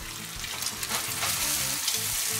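Eggs fry in a hot, smoking pan with a dense, crackling sizzle that stays loud and steady, with faint scraping and spitting bursts and tonal music low underneath, no voices.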